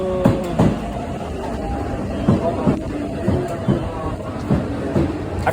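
Inside a Shinkansen bullet train during a ride, a steady low cabin rumble runs with periodic soft rhythmic thumps and a murmur of passenger chatter in the background.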